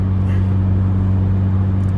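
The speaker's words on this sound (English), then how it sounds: "now the car is just driving like it was normal" A car cruises along at steady speed on the way to a grocery store, its engine giving a continuous low hum with road noise, close and even throughout with no voices.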